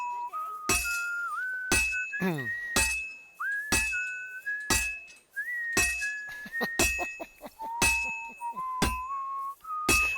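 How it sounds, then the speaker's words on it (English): Someone whistles a wandering tune with sliding, held notes during Kingdom Come: Deliverance II gameplay, the whistle punctuated by sharp clinks and metallic taps, fairly quiet and without talk. "Are you whistling too, Mom?"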